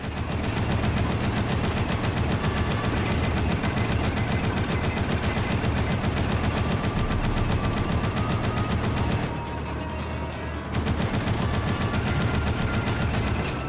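Sustained turret gunfire from the video game Dead Rising, a loud, dense stream of rapid automatic shots that pauses briefly near the end before resuming, with no talking.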